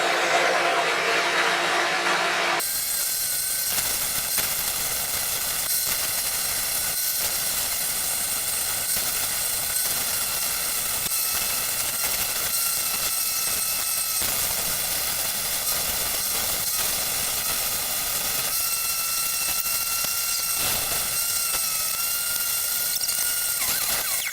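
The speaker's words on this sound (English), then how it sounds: "I'm just gonna sand that down a little bit, make it look nice" A power sander works a bottle opener while a vacuum runs, making a loud continuous high whine and rush that holds steady throughout with small dips in intensity and no voices.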